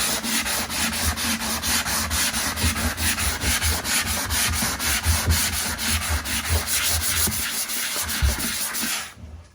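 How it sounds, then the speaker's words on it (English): A fine finish sanding sponge rubs back and forth across a wall in fast, even scratchy strokes, close and loud, continuing without pause and then stopping abruptly at the end. "a few seconds of wiping that with my sanding sponge"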